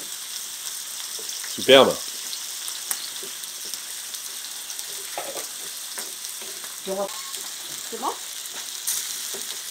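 Garlic fries in olive oil for a paella royale, giving a low, steady sizzle under brief spoken remarks, with a louder clatter near the start and a few soft utensil knocks later.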